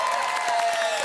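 Studio audience at a Ukrainian TV show applauding a singer's introduction, dense continuous clapping with crowd noise, loud and even across the short span.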